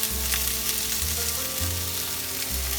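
Jasmine rice stir-fried with bell peppers in a pan over a high flame for Thai pineapple fried rice, a loud continuous sizzle with a few scraping stirs and no talking.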